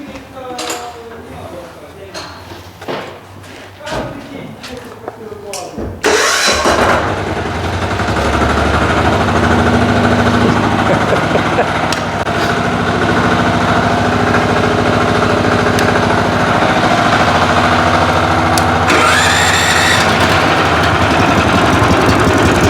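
Two walk-behind tractors, a 16 hp petrol and a 12 hp diesel, sit among clatter and knocks, then an engine roars to life and both keep up a loud, continuous chugging drone, with voices talking over it.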